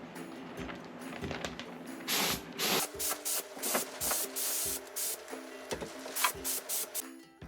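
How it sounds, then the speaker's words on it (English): Bursts of spray paint hiss over a 1987 Jeep Wrangler under restoration, a series of short and longer passes with brief gaps between them, close and fairly loud, no talking. "this is not your standard spray approach to doing a Jeep or any vehicle for that matter"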